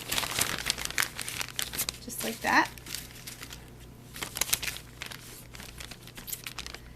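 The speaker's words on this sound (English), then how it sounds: "we're going to put them in this plastic bag" A plastic bag crinkles and rustles close by as goose breast jerky strips are packed into it, with a person speaking briefly over the handling noise.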